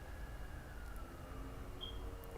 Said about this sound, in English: And here comes this ambulance siren here.